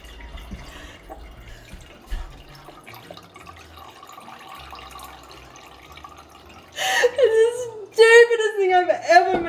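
Almond milk trickles and drips from a 3D-printed jar lid into a cup as a soft, uneven pour up close, then voices and laughter take over near the end.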